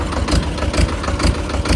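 A 4x4 tractor engine idles nearby, a loud, low chugging beat pulsing steadily about twice per second with no talking.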